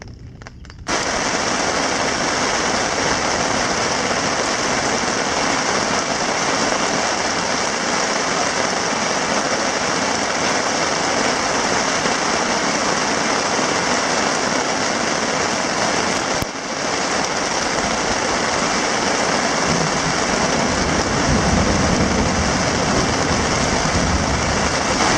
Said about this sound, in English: Getting flooded out here. Man, is it ever raining.